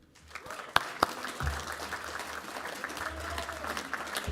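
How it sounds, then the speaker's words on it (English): An audience applauds graduates at a graduation ceremony in Melbourne, steady clapping building in a large hall with a few louder claps standing out nearby, continuing to the end. "I would like to give you all a good round of applause for"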